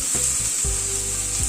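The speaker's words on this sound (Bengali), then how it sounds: "গ্যাসের ফ্লেমটাকে মিডিয়ামে রেখে পেঁয়াজটাকে ভেজে নিচ্ছি" Onions frying in a pan over a medium gas flame give a steady hiss with faint low clatter underneath, continuous and close.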